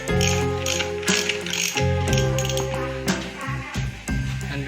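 A ratchet wrench loosens strut bolts on a Maruti car, with loud close repeated clicking strokes of the pawl in a quick, uneven rhythm, each burst breaking off and starting again across several pulls.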